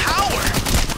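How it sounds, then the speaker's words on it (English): Rapid machine gun fire in the video game Apex Legends, a dense, loud continuous burst filling the short moment. "This machine gun is very decent."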